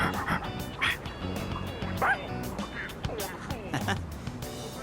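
A dog in Persona 3 Reload gives a run of short yips and barks, several quick bursts over game music and background tones, fairly close and lively.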